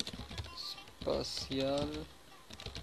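Quick bursts of computer keyboard keystrokes as a map title is typed, soft clicks at the start and end around someone speaking French.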